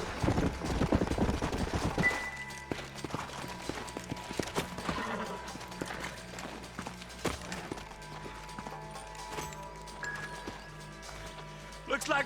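Horse hooves clip-clop on open ground in the western game Red Dead Redemption, a burst of steady hoofbeats at first, then scattered thuds under game noise and voices.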